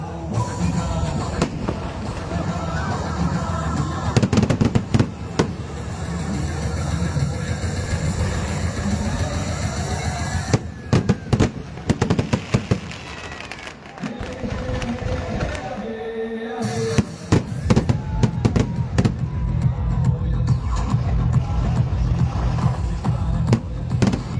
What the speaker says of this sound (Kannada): ಕಾರ್ಯಕ್ರಮ ಮೊದಲ ಬಾರಿಗೆ ಈ ಕ್ರ್ಯಾಕರ್ ಶೋ